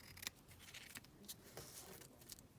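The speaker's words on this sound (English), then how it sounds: "Let me just trim this down slightly." Scissors trim a piece of paper ephemera for a floral collage, a series of soft, close snips and light paper rustles spread across a few seconds with no talking.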